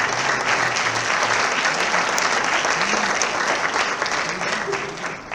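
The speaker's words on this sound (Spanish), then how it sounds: "un aplauso a los de Oxford." Audience applause at a conference event, a loud continuous wash of clapping filling the hall, with a few brief voices and tones sounding underneath.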